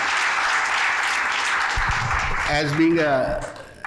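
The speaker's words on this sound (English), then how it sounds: "First of all, big round of applause for the Jatin bhai because he's the one who" Audience applause at a panel discussion on new criminal law, a steady wash of clapping throughout, with a voice starting to speak over it near the end.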